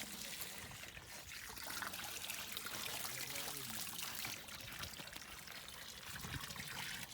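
Water pours steadily into a children's paddling pool being filled at home, a continuous splashing trickle heard close up with faint voices in the background.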